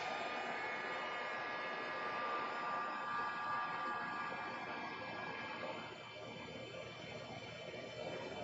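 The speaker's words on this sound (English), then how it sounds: "heat set that to get a nice embossed image" A craft heat tool blows a steady, close whooshing hiss while heat-setting embossing powder on a stamped image, holding continuously and easing slightly toward the end.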